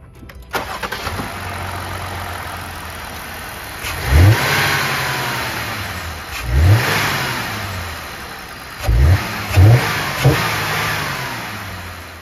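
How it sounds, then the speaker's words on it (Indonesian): A Jeep Gladiator Rubicon's 3.6-litre naturally aspirated Pentastar V6 cranks and fires up, then settles into a steady idle broken by four sharp throttle blips, loud and close with no talk. "suara mesin V6 Pentastar 3600 cc naturally aspirated kayak apa? Yuk foto break, kita startup dulu."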